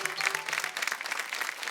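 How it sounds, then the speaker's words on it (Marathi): Studio audience applause at a Marathi women's game show, a steady patter of clapping hands heard fairly faintly throughout, with no voices over it. "एकदम जोरदार टाळ्या होऊन जाऊ दे."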